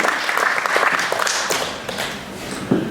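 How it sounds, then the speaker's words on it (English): An audience at a cadets' presentation claps together, with a steady patter of hands and a few louder, close claps and thumps standing out near the end. "I'd like to give him a round of applause"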